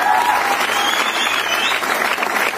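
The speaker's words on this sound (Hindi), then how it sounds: "जोरदार तालियां मॉम के लिए।" Loud, dense applause from a large crowd at a motivational business talk, a continuous roar of clapping that holds at full strength throughout.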